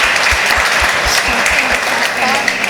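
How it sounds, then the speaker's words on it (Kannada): A church congregation claps in praise, loud rhythmic steady clapping from many hands at a brisk even beat, with voices mixed in. "ಜೋರಾಗಿ ಚಪ್ಪಾಳೆ."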